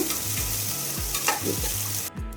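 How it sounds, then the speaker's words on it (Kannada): Onions browning in hot oil over a high flame for egg biryani, with a steady loud sizzle broken by several rhythmic scrapes of a spoon stirring the pan. "ನೋಡಿ ಈ ಥರ ಹೈ ಫ್ಲೇಮಲ್ಲಿ ಇಟ್ಕೊಂಡು ಬ್ರೌನ್ ಮಾಡ್ಕೋಬೇಕು"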